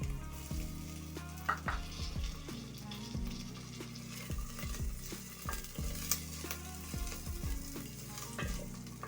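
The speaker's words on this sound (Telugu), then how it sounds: "ఇలా గోల్డ్ కలర్ అంత వరకు ఫ్రై చేసుకోవాలి" Onions fry in a pan, sizzling continuously and fairly quietly, with repeated clicks and scrapes of stirring.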